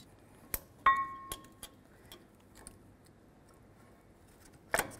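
Brake pads being fitted into the caliper bracket of a Ford F-350 dually truck, a few sharp metallic clinks and taps spaced irregularly over quiet workshop background, close by.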